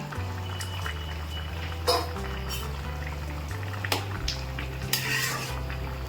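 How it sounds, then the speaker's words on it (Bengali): Masoor dal fritters dropped into simmering gravy for a Bengali potato, elephant-foot yam and cabbage curry, with a steady bubbling simmer, stirring scrapes and a few soft knocks against the pot, no talk. "এখন আমি বড়াগুলো ঢেলে দিচ্ছি। মসুর ডালের বড়া।"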